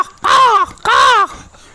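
A man imitates a crow's caw with his bare voice and no mouthpiece: two loud, drawn-out, nasal caws in close succession, each a bit under half a second, with a short gap between.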